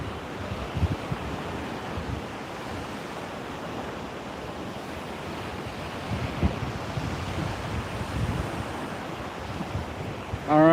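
Steady outdoor wind on a warm, breezy day, blowing as a continuous broadband rush across the microphone with a few gusty bumps and no talking.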